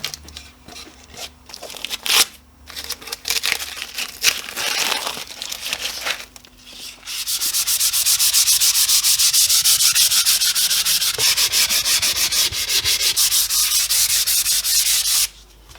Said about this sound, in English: and then we'll give it a sand.